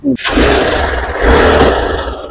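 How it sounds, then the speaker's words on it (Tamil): Motorcycle engine running in top gear to spin the wheel so anti-puncture liquid seals the tyre, a steady loud broadband drone after a brief start, sustained throughout. "நீங்க இப்படிதான் டாப் கியர் போட்டு வண்டியை வந்து வீலை சுத்த விடுங்க"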